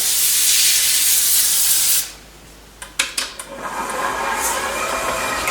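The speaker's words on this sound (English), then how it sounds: "we're going to put some parchment paper and we're going to give it a good spray" Cooking spray hissing out of a can onto parchment paper in a 10 by 15 baking pan, one long continuous spray followed by a few light handling taps and a second softer hiss.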